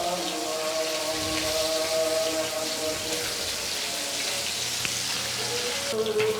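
Koi fish fry in hot oil with a dense, steady crackling sizzle that holds loud and even, with a brief clatter near the end.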